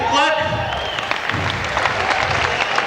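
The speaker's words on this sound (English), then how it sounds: "Give them a big clap." An audience at a fight night claps loudly and steadily for the performers, a dense continuous patter of many hands, with a voice briefly audible at the start.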